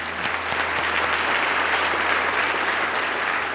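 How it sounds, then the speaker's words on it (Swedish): Warm applause from an audience welcoming Sweden's interior minister Mikael Damberg onto a conference stage, a steady dense wash of clapping held at an even level throughout. "En varm applåd."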